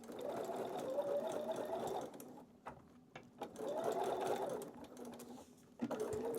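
A sewing machine stitches curved quilt pieces in two steady runs of close, buzzing whir. A pause between them holds a few soft clicks and fabric handling, and a short start comes back at the end.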